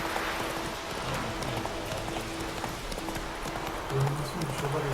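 A horse's hooves clip-clop steadily across ground in the video game Witcher 3, an even, moderately loud walking rhythm over soft ambient game sound.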